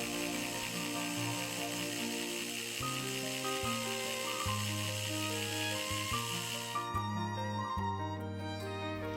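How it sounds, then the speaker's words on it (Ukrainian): A kitchen blender grinds cottage cheese until soft and fluffy, a steady loud motor whir with shifting pitch as the curd breaks down, running continuously alone. "Сир перемелюю у блендері, щоб він став м'якенький і пухнастий."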